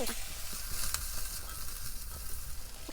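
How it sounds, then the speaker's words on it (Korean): Sliced onion and fine chili powder stir-frying in a pan for soft tofu stew, giving a steady, close sizzle with light stirring scrapes throughout and no talk. "양파 썰어둔 걸 넣어서 다시 볶으면서 고운 고춧가루를 한 큰술 넣어서 같이 볶습니다"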